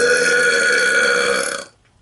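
A man belches loudly in one long, sustained, drawn-out burp lasting well over a second before cutting off into silence, close and dominant.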